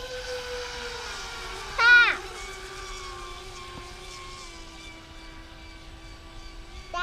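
Radio-controlled Recoil boats drag race on water, their small electric motors giving a sustained high whine, with a brief louder surge partway through and no talk.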